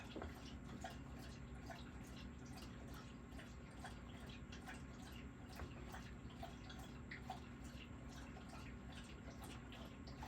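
Soft, irregular wet lapping and dripping of a dog drinking from a bowl, quiet and close, continuing steadily throughout with no voices.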